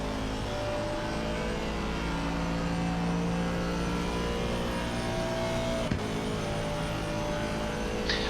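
Race cars battling at Monza in a sim racing league broadcast, engines droning continuously with shifting pitch as cars run close together, one brief sharp transient partway through.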